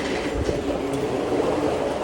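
Steady rumble and rush of a subway train running on a South Korean line, loud and continuous with no talk.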